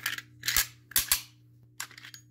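Browning Hi-Power pistol with a one-piece recoil spring guide rod seating itself into the barrel cam lug, giving a few quiet, sharp metallic clicks and snaps spaced over a couple of seconds, close up and alone.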